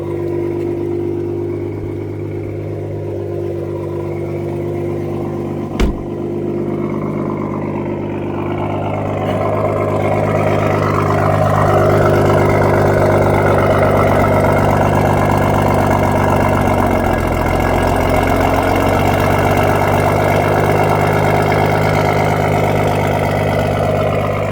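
A car idles after a catless downpipe install, with a check engine light on: a loud, steady droning hum with strong low tones, one sharp click early on, and a slight rise in engine note partway through.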